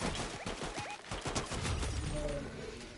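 Gunfire in the video game Fortnite, a rapid burst of several sharp shots early on, then a busier, continuous game soundscape with voices talking over it.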